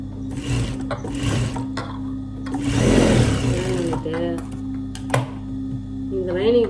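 A sewing machine rattles in two close bursts of stitching, joining a lining piece to the main fabric piece, with someone talking in between the runs and over quieter handling sounds.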